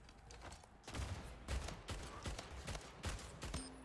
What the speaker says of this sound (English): he needs to win those gunfights